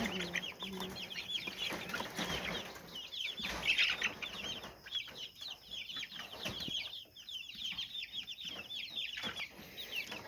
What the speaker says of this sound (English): Chickens, chickens, chickens everywhere